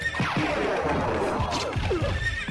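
A loud horse whinny rings out in the video game Castlevania: Symphony of the Night, close and shrill, with a few heavy thuds mixed in.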